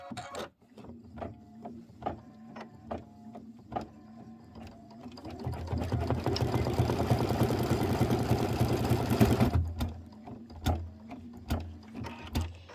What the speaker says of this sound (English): Stitch the hay strip B placement line.